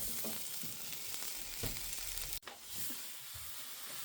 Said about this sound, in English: We have a nice sear on the other side of our roast.